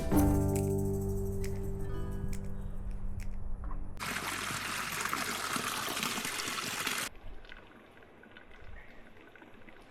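Water trickling and rushing along the Rae Lakes Loop in June, a steady close wash that swells loudly mid-way then settles to a softer flow.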